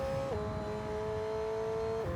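An F1 car in the racing game F1 22 at Imola, engine holding a steady high whine with a quick pitch dip at a gear shift near the start and another near the end, loud and continuous with no talk.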